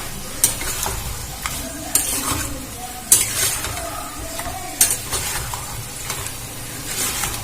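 Chicken pieces sizzle in a hot pan as they are stirred, a continuous frying hiss broken by repeated scraping strokes of a spoon roughly every second or so.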